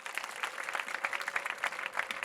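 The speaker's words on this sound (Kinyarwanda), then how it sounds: "Muyinkomerera amashyi" A church congregation at a Sunday service applauding, a fairly quiet, continuous patter of many hands clapping for a couple of seconds, heard from a short distance with no voices over it.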